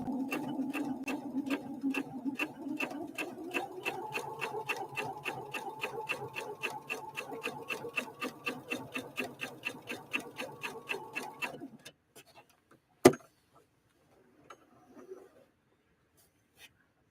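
A Husqvarna Viking Opal 650 sewing machine stitches at 3.0 length with a rapid, even needle tick over a soft motor hum, running steadily for about twelve seconds before stopping with a sharp click.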